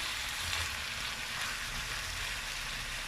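Minced meat for bolognese fries with tomato concentrate stirred in, giving a continuous even sizzle and crackle with faint stirring underneath.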